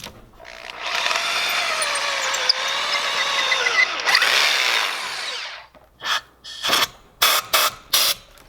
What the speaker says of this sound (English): That drill, if you don't push hard, it actually goes faster.